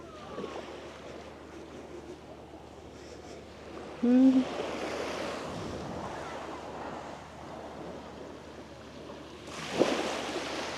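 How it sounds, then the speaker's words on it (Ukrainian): Sea waves wash onto a beach in Odesa at night, a soft continuous surf with wind buffeting the microphone and swells rising toward the end. "Ось море, бачите?"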